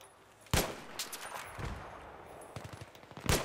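Sharp rifle shots from an M40A5 bolt-action sniper rifle in the video game Battlefield 3 crack out one at a time at irregular intervals, five or six loud bursts over a low game background.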